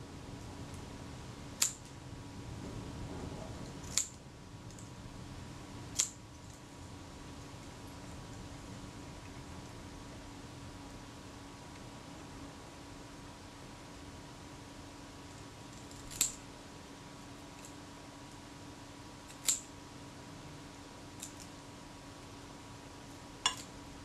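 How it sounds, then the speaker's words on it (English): Scissors snip excess tape during final assembly of a Retina Reflex S camera, giving about seven sharp, isolated clicks spread over a quiet background hum. "Now I'm just going to trim this excess tape off."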